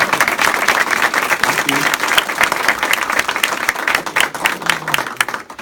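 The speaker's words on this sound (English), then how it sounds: "Let's give them a round of applause." A crowd gives a sustained round of applause for a neighborhood organization's founding members, dense clapping filling the room, with a brief spoken thanks over it and the applause fading near the end.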